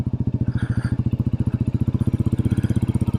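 Royal Enfield Meteor 350 fitted with an aftermarket pipe, heard on the move: a steady, low, loud single-cylinder thump with even firing pulses throughout, close up.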